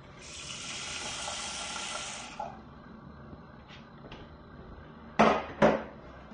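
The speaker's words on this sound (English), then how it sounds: "Experimenting with water in the pot at the sink." Tap water runs into a pot at a kitchen sink for about two seconds, then stops, followed by a few light knocks and two sharper clanks of the pot being handled.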